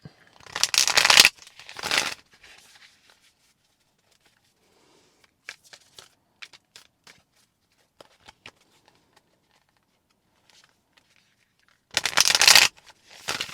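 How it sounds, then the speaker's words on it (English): Cards are riffled and bridged in two quick bursts near the start, a few soft clicks in between, then another brisk riffle at the end. "little more shuffling. I just want the cards to be well mixed up."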